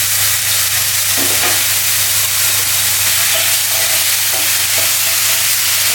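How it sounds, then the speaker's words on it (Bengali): Spice paste tipped into frying onions, giving a loud, steady sizzle and hiss throughout with a few scraping stirs, close by and with no talking. "তো পেঁয়াজগুলো ফ্রাই হয়ে গেছে, আর এবার আমি দিয়ে দিচ্ছি পেস্ট করা মশলাগুলো।"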